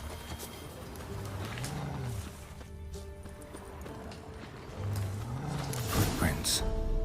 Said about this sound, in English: I hear some wolves in the distance.